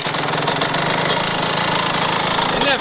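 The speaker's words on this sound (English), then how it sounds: "It never idled like that before." Rough, uneven idle from a rebuilt 2018 Kawasaki KX85 dirt bike engine with fresh muffler packing and a cleaned carburetor, a steady close, loud mechanical putter with a slightly knocking, lumpy rhythm throughout.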